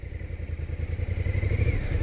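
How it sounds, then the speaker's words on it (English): 2016 Motorcycle Sport Super engine pulling away after being shifted into first gear, a close, steady low throb that builds slightly in loudness over two seconds. "Clutch in, kick down, notice the neutral light's off, and here we go."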